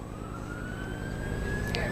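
A distant emergency vehicle siren on an interstate wails with a slowly rising tone over steady low outdoor rumble and background crowd noise at a baseball game.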